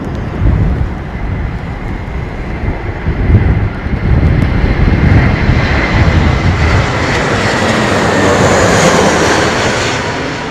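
Airliner coming in to land at London Heathrow Airport, a loud broad roaring rush of jet engines that swells and holds steady, heard outdoors with faint rumbling beneath.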